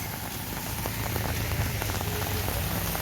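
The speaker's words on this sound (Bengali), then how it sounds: "এত বৃষ্টি হচ্ছে" Steady rain on a cold winter morning, a dense hiss of drops drumming on surfaces nearby with scattered louder individual splashes, constant throughout.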